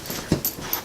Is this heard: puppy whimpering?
yes